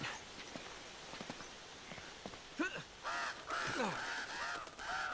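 Crows caw repeatedly in harsh, rasping calls in the video game Uncharted: Drake's Fortune, growing louder toward the end, over soft steps and faint background ambience.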